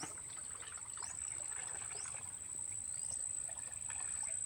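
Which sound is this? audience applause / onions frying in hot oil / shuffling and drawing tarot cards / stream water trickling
stream water trickling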